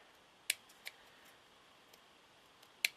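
Scissors snipping excess bits off a paper tag embellishment, a few sharp isolated cuts spaced apart in a quiet room.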